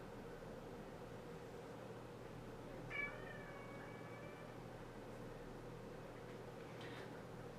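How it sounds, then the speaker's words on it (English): Cat meowing once, a short plaintive cry at moderate distance over a steady, noisy indoor hum; otherwise quiet. "My cat's crying because he's like really upset"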